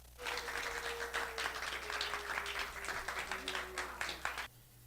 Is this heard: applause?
yes